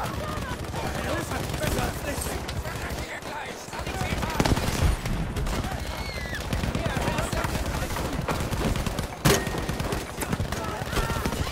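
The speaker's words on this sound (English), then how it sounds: "Yeah, I'm just firing grenades and nades." Rapid, repeated grenade-launcher fire and explosions in an online shooter game, dense and loud throughout, with a player talking over the constant barrage.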